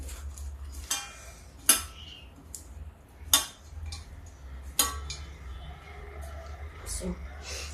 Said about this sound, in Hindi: अब इसको मिक्स करते हैं